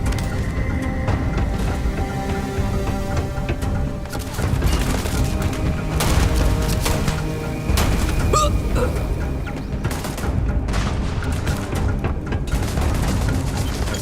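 A Starfield firefight with grenades thrown: loud, sustained gunfire and booming blasts crowd together without letup, with sharp cracks and rumbling explosions layered over a constant din of combat and no voices.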